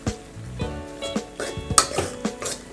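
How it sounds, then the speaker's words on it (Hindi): Khoya being roasted on low heat in a pan for carrot halwa, a spoon scraping and stirring with repeated metallic clinks against the pan over a soft sizzle, close and steady. "खोए को अच्छी तरह से भून लीजिए।"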